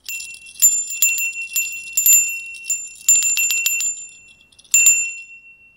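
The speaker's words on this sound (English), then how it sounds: "for this, we have our Om bell" An Om bell with an Om symbol, used in a card reading, rings out in several bright metallic strikes with long shimmering decay, close and clear, with no talking.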